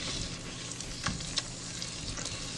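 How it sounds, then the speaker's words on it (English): Vanilla being stirred into hot candy syrup for candy apples, a soft steady bubbling sizzle with a couple of brief spoon knocks against the pot, no voices. "We're going to mix that vanilla in."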